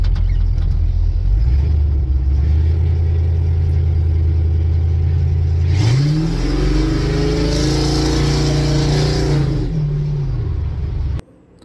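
An LS-swapped squarebody Chevrolet C10 truck engine idles with a deep rumble, then revs up sharply, holds a raised roar for several seconds and drops back to idle before cutting off abruptly.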